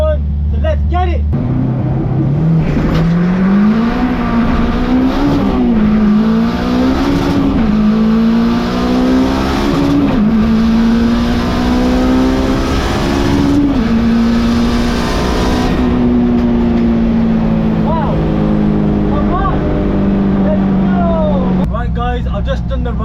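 A 450 bhp K20-swapped EK Honda Civic coupe roars hard on a quarter-mile drag run, climbing in pitch through several gear shifts, loud and close, then eases off near the end.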